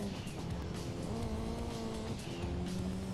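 Racing car engine in the Gran Turismo 2 video game revs and drones steadily with shifting pitch and some tire squeal, loud and continuous, with no talking over it.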